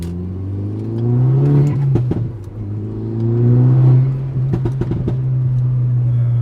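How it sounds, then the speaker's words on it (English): A Stage 2 Volkswagen Golf R engine, heard from inside the car, revs up and eases off twice with a strong droning induction tone, and sharp crackling pops and bangs burst out as the throttle lifts. "I always love how this car sounds. The induction, the little pops and bangs."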